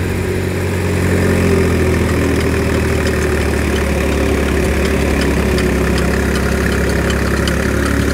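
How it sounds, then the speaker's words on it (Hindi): A tractor fitted with a 7-foot rotavator idles steadily with a deep, constant engine rumble, loud and close throughout with no speech over it. "ट्रैक्टर स्टार्ट हो गया है"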